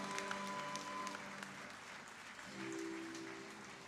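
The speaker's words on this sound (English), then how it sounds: "Ladies and gentlemen, please give a big round of applause for them." Faint applause from an audience honoring the winners of an intra-collegiate moot court competition at a college decennial celebration, a steady patter with faint tonal hum underneath and no talk.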